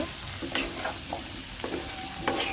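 Chopped onions fry in a pan for a mixed vegetable dish, giving a steady close sizzle broken by a few scraping stirs of a spoon.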